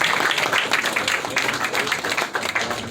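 A live audience applauds a singer at a Congolese music event, a dense, steady wash of many hands clapping that fills the whole stretch at close range, with no voice standing out above it.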